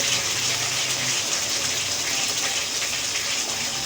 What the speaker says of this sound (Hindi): दही डाल दें। मैंने 1 टेबल स्पून डाला है भर के।